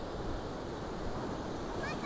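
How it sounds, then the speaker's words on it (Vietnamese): High, white-capped ocean surf rolls in at Cửa Tùng beach in Quảng Trị, a loud, continuous wash of breaking waves blended with wind buffeting the microphone. "So với biển Thuận An thì bên thầy Cửa Tùng sóng cao và bạc đầu hơn"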